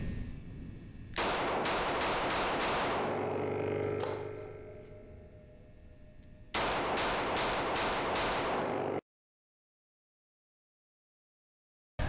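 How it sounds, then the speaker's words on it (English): Two quick strings of five rapid pistol shots from Walther PDP and PDP F handguns, loud and close with sharp reports and ringing echo. A brief pause separates the two bursts, and silence follows the second. "I'm gonna do a quick 5 shots with both"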